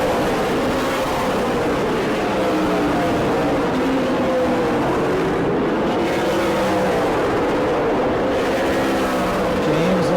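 Late model race cars roaring around New Smyrna Speedway, loud sustained engine drone with shifting pitch as several cars run side by side, continuous and close with no gaps.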